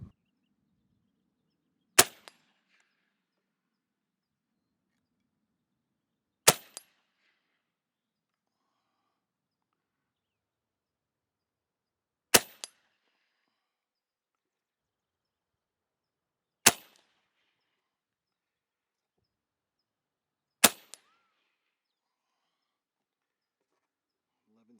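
Five sharp, isolated shots from an Airforce Escape .25 caliber air rifle fired through a chronograph, each a crisp crack with a faint follow-up tick, spaced several seconds apart in near silence.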